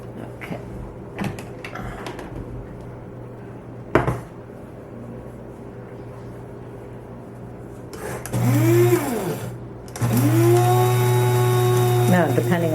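Blender grinding dehydrated ginger and spinach into powder in a home kitchen, a loud steady whirring motor that starts in two bursts near the end after quieter handling and clatter.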